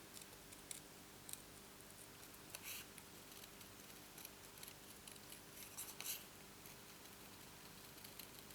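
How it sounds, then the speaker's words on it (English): Scissors snip paper in short, faint, irregular cuts while fussy cutting a shape for a handmade birthday card, a soft, close series of clicks with no speech. "it is a lot easier when you're doing fussy cutting if you actually turn your paper rather than turning your"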